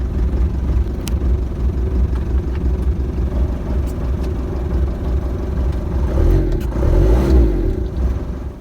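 Ford Transit van's 2.5 DI diesel engine runs shortly after a cold start, a loud steady close-up clattering idle that swells briefly near the end, with no talking.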